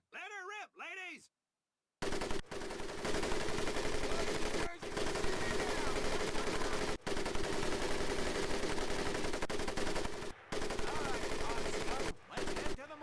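Mounted machine gun in Medal of Honor Pacific Assault hammering out a long, loud continuous burst of rapid automatic fire, broken by a few brief pauses, after a short opening voice snippet.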